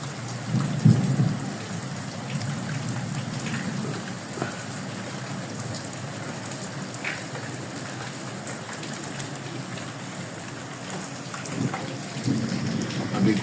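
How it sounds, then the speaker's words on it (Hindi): Heavy rain pours steadily in Faisalabad, a constant close hiss of drops striking surfaces, with low rumbles of thunder rolling in near the start and again toward the end. "देखें फैसलाबाद में तेज़ बारिश हो रही है।"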